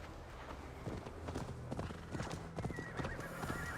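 Horses gallop with steady clip-clop hoofbeats and an occasional whinny as riders mount up in Assassin's Creed Valhalla, the hooves close and rhythmic over a low ambient game backdrop.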